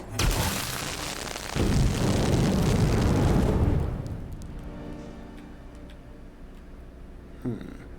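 An explosion in the video game We Happy Few sets off a loud, dense roaring blast for several seconds, then gives way to a low, lingering rumble under faint game ambience and a brief later thud.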